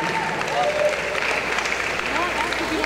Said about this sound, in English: one more round of applause for our honoree